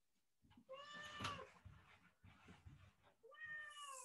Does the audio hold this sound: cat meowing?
yes